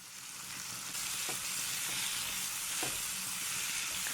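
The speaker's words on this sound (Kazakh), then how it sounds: "Қызанақ қуырылып, езіліп, су шығу керек." Tomatoes fry in a pan for a vegetable gravy, giving a continuous close sizzle with a few soft stirring taps.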